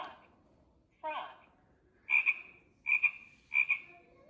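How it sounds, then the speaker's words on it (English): A green frog sound from a children's animal sound book plays as several separate croaks, with one rough call and then three sharp repeated croaks at an even pace, clear against a quiet background. "Green frog."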